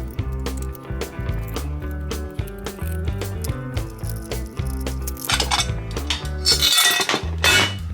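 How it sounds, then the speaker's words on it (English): Metallic clinks, taps and rattles of tools and parts while the ignition cover comes off a Suzuki PV50 engine, irregular and close, with a brighter burst of jangling near the end. "Let's get the ignition cover off."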